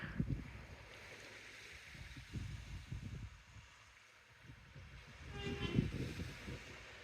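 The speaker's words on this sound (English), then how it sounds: "Very slow moving service train." A slow service train rumbles past with low, uneven churning, rising and falling, and a brief horn-like tone near the end.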